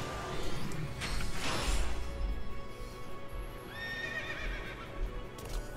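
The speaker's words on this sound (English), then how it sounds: "I'm on a horse." A horse in the video game Final Fantasy XIII gives a loud whinny amid hoof clip-clops and a whooshing game effect, followed by a fainter whinny near the end.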